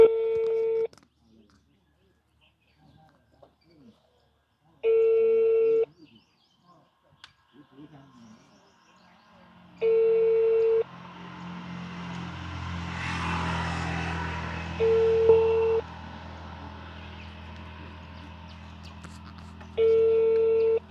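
Phone call: a repeating ringback tone plays in short regular bursts about every five seconds, with faint background noise and a rising rumble between the tones.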